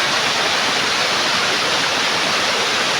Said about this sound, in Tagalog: Pag nakita mo naman kung malakas na rumaragas ang tubig